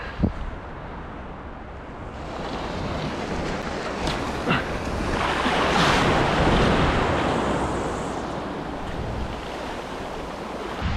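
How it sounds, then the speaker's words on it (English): Wind and sea waves on the shore on a chilly night, a continuous rushing wash of surf that swells and fades, mixed with buffeting wind noise on the microphone. "The wind's just picking up."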